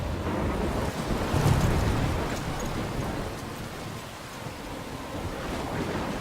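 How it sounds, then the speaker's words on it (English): Thunderstorm in the video game Life Is Strange, a dense roar of wind and rain with a deep low rumble swelling near the start, steady and enveloping throughout with no talking. "I'm trapped in a storm?"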